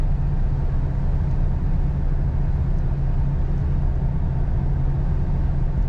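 A 1950 Lincoln Sport Sedan cruises along with a steady, muffled engine drone and road rumble inside the cabin, even and quiet, with no talking.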